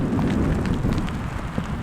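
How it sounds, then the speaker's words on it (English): Rain beginning to fall while hiking high in the Montana mountains, a dense, steady patter and hiss of drops on the surrounding ground and gear, fairly close, with no voices. "Oh, now it's starting to rain."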